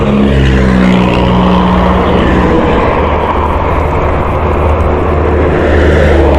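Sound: Honda CBR150i motorcycle engine on test ride

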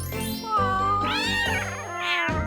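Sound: kitten meowing

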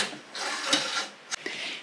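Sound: grow lights unscrewed and moved along light stand track

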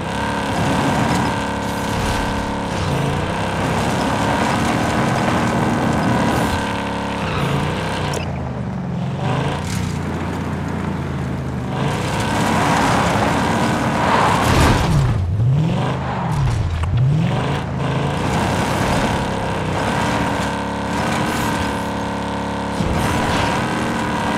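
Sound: car driving in Call of Duty Warzone video game

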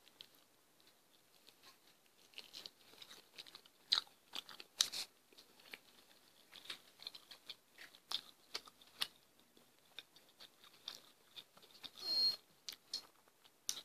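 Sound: biting and chewing spicy Wingstop Cajun chicken wings

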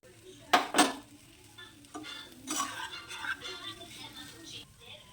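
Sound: stirring homemade noodles with fried egg in a pan

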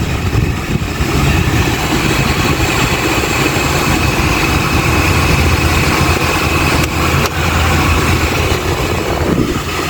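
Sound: car air conditioning blower motor running

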